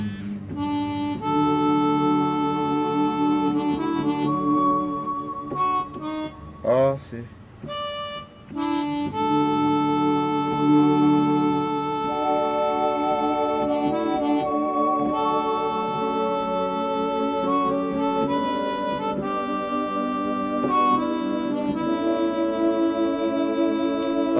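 Yamaha Montage keyboard with a split setup playing sustained chords and melodic lines, a rich layered synth sound running continuously and fairly loud, with a brief pause midway and a short spoken remark.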